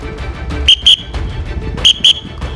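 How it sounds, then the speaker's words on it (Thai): Two pairs of short, shrill traffic whistle blasts, each pair a quick double toot, signalling vehicles to pass during military police traffic control, heard over steady outdoor background noise. "เมื่อเราต้องการให้เขาผ่านนะครับเราก็จะเป่าเป็นนกหวีดสั้น 2งครั้งนะครับ"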